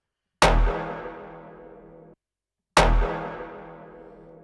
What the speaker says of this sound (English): it's just a one-shot pluck